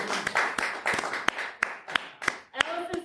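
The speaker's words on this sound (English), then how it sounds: "remember we're doing this by applause, we're doing this by volume" Small comedy-club crowd giving sparse clapping to vote for a comic, about a dozen distinct sharp claps in an uneven rhythm over a murmur of talking voices.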